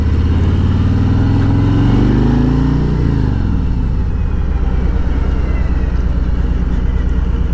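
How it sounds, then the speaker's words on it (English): A 2020 Harley-Davidson Road Glide Special Edition V-twin motorcycle engine rumbles loud and close, its deep throb rising through a rev over the first seconds, then falling and settling into a steady, lumpy, low-pitched running note. "So this is definitely a Harley-Davidson motorcycle."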